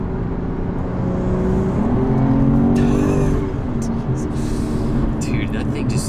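A 550 whp BMW G80 M3 Competition accelerates with a loud, sustained exhaust roar that rises in pitch, shifts and swells again, while people talk over it.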